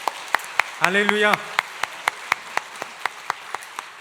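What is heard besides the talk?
congregation applause in church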